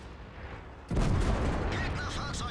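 A tank cannon fires in World of Tanks, one loud close boom with a rumbling tail that rings on for over a second after a quiet lead-in.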